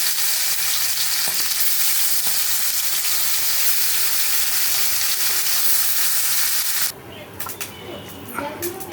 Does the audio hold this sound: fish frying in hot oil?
yes